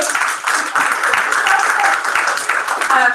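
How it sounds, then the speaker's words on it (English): A roomful of volunteers claps in a big round of applause after a talk, dense steady clapping with a few voices mixed in, fairly close and loud. "one big round of applause for all of you today"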